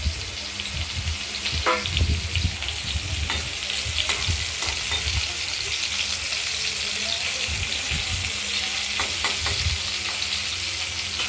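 Pointed gourd (potol) frying in oil in a pan, a constant close sizzle broken by repeated stirring and scraping knocks of a utensil against the pan.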